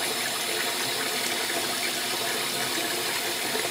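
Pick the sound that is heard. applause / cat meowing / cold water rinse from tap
cold water rinse from tap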